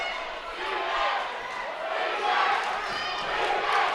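Loud, steady crowd noise fills a high school boys' basketball semifinal between New London and Woodstock, swelling in waves with cheering surges throughout.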